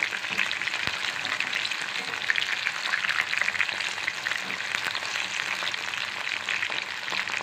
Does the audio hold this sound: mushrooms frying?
yes